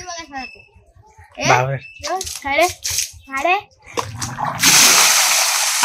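A voice chatters in short bursts while standing in a water barrel, then vigorous water splashing and sloshing takes over loudly at the end.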